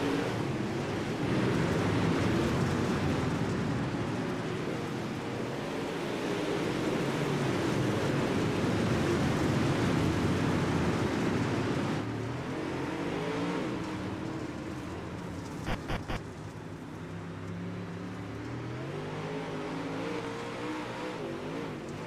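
A pack of UMP modified race cars roars off on the green flag at Kokomo Speedway's dirt track, a loud, sustained engine drone that swells and then eases slightly as the field pulls away, with no talk.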